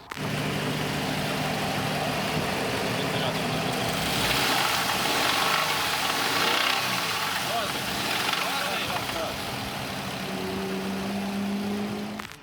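A Subaru BRZ engine with a fault idles and revs with an uneven, rough tone, steady mechanical droning throughout, while people talk nearby over it.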